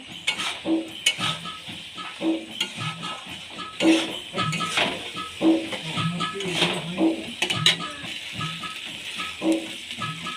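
Fried potatoes are sautéed and stirred in a pot for Bengali aloo dum, giving steady scraping and soft clinks with a light sizzle, close and moderately loud, under a faint hum.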